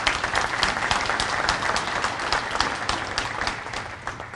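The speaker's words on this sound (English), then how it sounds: "if we can just give him a round of applause" Audience applause at a State of the Economy event: a sustained round of clapping from a crowd, steady and moderately loud throughout, with no speech over it.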